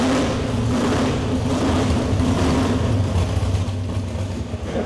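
A drag race car engine rumbling and revving loudly up close, a thick steady low roar with a pulsing idle and rising throttle blips, no voices.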